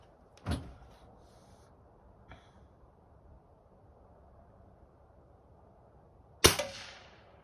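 Two sharp shots from a Xisico XS46U air rifle during target shooting, each a crisp crack with a short tail, spaced about six seconds apart over quiet background, the second louder.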